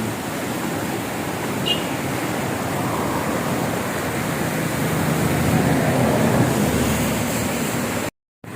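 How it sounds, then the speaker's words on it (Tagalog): Monsoon habagat wind blowing after a typhoon in the Philippines: a constant, loud, broadband rushing roar with no voices, cutting off abruptly near the end. "habagat lang na hangin ngayon"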